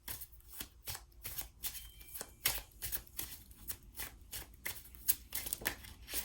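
Love Compass Oracle cards are shuffled by hand in a steady run of soft, rapid riffling slaps, close and fairly quiet, continuing without a break throughout.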